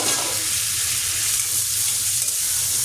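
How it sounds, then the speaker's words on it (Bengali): Chunks of boiled potato fry in hot oil, giving a dense, even crackling sizzle that stays close and steady throughout without any talking. "আলুগুলো দিয়ে একটু ভেজে নেব"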